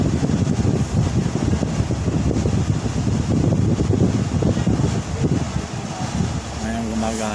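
A steady air cooler fan whirs with a broad airy hum, continuous and fairly close, with a faint rattle near the end.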